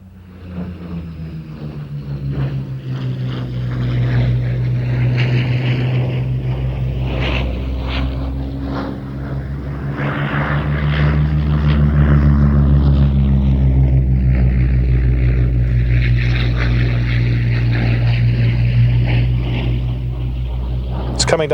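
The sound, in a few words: Spitfire aircraft flying an airshow display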